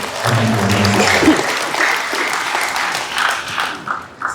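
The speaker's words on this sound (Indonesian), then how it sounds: "Tepuk tangan buat wali mahasiswa." Audience applause for the students' parents at a nursing diploma graduation ceremony in Purworejo, a dense, steady clapping that fills the room and keeps going for the whole few seconds, with a low voice briefly heard at the start.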